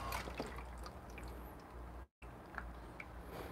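An espresso machine flushes a short burst of hot water through its group head, a steady splashing, trickling stream with a brief silent gap midway before the flow resumes.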